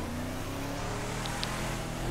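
A car engine in the video game GTA 5 revs and runs steadily at close range, a brief continuous droning roar with no talk.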